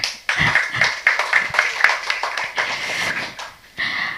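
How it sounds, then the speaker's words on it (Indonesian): An audience at a journalism roadshow forum in South Tangerang breaks into dense, steady clapping that starts abruptly and carries on for several seconds close by, swelling again briefly near the end. "Boleh tepuk tangan ya?"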